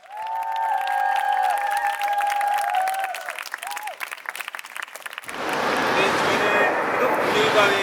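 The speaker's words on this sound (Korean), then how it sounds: "법률가회에서 나오실 때 박수로 환영해 주시기 바랍니다." Someone speaks for several seconds at a church protest event staging a mock trial, then the audience bursts into loud, sustained applause as the speakers are welcomed.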